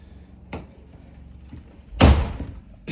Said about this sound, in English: I'll close the door behind me.